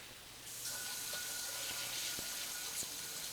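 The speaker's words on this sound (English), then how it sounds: "Go flush the toilet again, please." A partly clogged toilet is flushed in a bathroom, a steady rushing of water that starts abruptly and keeps going, loud and close.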